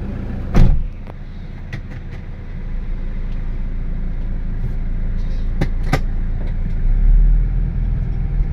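A 2011 Toyota TRH200 van idles with its diesel engine running and the air conditioning on, a steady low rumble from inside the cabin, punctuated by a few sharp clicks and knocks.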